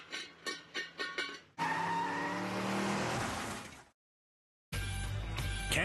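A pristine Ford Mustang pushed through a driving assessment course: a quick series of engine pulses, then a long squealing tire skid, a sudden stretch of silence, and another burst of engine and tire noise.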